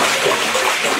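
Water sloshing and splashing in a filled bathtub where a girl sits with plastic balls, a steady close wash of splatter with no pauses.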